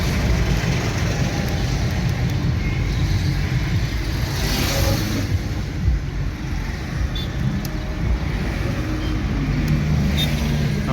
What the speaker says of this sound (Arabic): نجرب العربيه اهو. طريق زحمه خالص النهارده